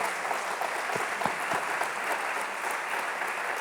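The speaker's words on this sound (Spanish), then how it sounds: "Sí, ya podéis aplaudir, que se lo merece ya." An audience at a medical congress applauds in a dense, steady wash of clapping that holds at an even level throughout, with no voices heard over it.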